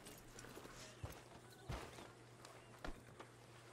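Horse hooves clip-clop in Red Dead Redemption 2, a few spaced, fairly close thuds over a quiet game ambience without talk.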